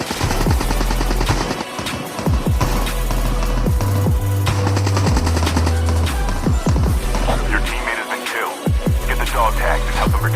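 A sniper in a battle royale game fires amid the fight: repeated sharp gunshots ring out near and loud over constant battle noise and engine-like drones, with rapid bursts scattered throughout.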